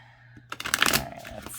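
Oracle deck cards given a quick bridge shuffle, a short crisp riffle of flicking cards close by, quiet and alone.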